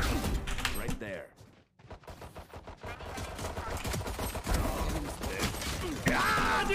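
Rapid gunfire in the shooter game Valorant, crackling volleys of close shots that pause briefly before resuming in steady fast bursts, with no talk over them.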